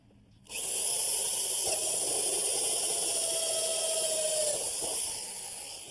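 A drill bores a 1.5 inch hole in a dry well tank outdoors, giving a steady, fairly quiet hissing whir for about five seconds with a faint higher whine partway through.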